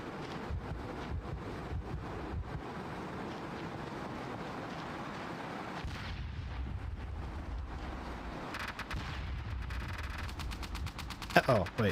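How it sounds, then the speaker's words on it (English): Rapid bursts of distant gunfire in the video game SOCOM Combined Assault crackle through a steady rumbling din, with repeated sharp shots over a noisy, busy background. "What was that gunfire?"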